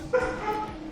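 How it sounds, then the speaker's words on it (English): A new puppy lets out a short, high yip-like bark, close by and brief, followed by a faint whimpering tone against a steady background. "If you hear my dog, I picked up"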